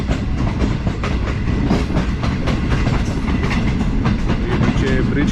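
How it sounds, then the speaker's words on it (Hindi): A Green Line passenger train in Pakistan rolls slowly toward Jhelum station, its cars giving off a continuous loud rumble and rhythmic clickety-clack of wheels over rail joints, heard from on board. "आहिस्ता आहिस्ता ट्रेन अभी हमारी बढ़ रही है जेलम रेलवे स्टेशन की तरफ"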